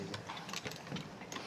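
A small phone vibration motor spins during a handset repair, giving a fast, rattling mechanical whir with ratchet-like ticks that hold fairly steady and close for the whole moment.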